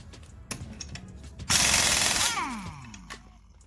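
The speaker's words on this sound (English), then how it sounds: "Now what I have here is an automatic assault ratchet." Impact wrench removing wheel lug nuts, a loud close burst of rattling hammering lasting under a second, preceded by a few faint clicks and followed by a spinning nut winding down.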